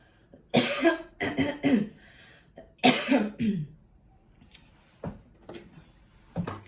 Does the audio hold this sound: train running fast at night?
no